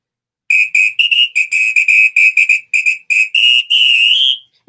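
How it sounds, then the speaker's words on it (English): A samba whistle blown loudly and close in a rapid string of short blasts, ending in one longer held trill, with silence before and after. "It's called Samba Whistle."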